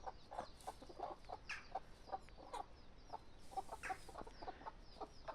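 Hens on a small farm with young chicks cluck in a steady run of short, repeated calls, fairly close and moderately loud, alone without talk.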